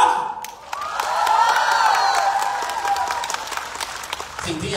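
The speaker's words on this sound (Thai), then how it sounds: "ขอเสียงปรบมือ" An audience at a business talk applauds and cheers, the dense clapping swelling then easing over several seconds, with voices in the crowd and a speaker beginning to talk near the end.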